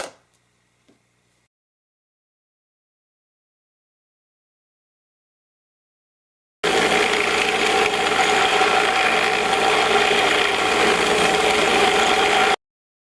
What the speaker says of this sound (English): Now I'll drop them into my corn cob tumbler